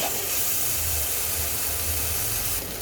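Grated tomato sautés with spices in a hot pan, giving a close, steady, soft hiss that carries on evenly without a break.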